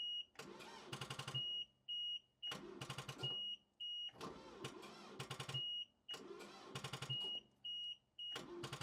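A Power Trac 1850 engine is cranked over in four repeated bursts of rhythmic starter churning, each about a second long. A steady electronic warning beep chirps between the bursts, and the engine does not catch.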